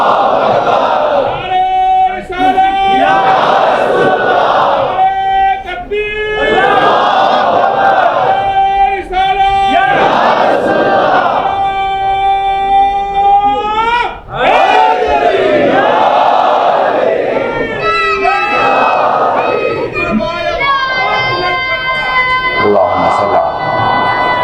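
A congregation at a majlis chanting slogans in unison, loud, rhythmic call-and-response phrases from a large crowd of voices, repeated in waves with brief breaks between chants.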